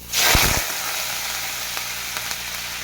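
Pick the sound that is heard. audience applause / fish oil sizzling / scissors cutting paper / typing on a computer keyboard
fish oil sizzling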